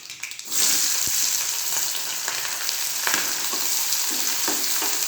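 Chana dal, dried chili and onions fry in hot oil for curry leaf fried rice, a loud steady sizzle that surges in after a short pause, broken by occasional utensil taps and stirring scrapes.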